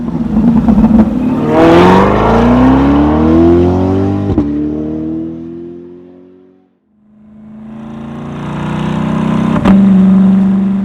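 A Chevrolet Corvette C8's Borla exhaust roars loudly as the engine revs up through a rising pitch, drops away briefly, then swells again into another strong rev.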